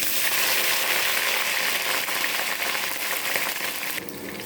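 Eggplant pieces frying in hot oil with nigella seeds give a steady, loud, broadband sizzle that holds evenly throughout and eases slightly near the end.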